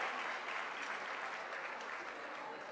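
Audience applause at a closing ceremony, honoring the best model award: steady, dense clapping from a large crowd that fills the whole stretch at even volume, with no pauses.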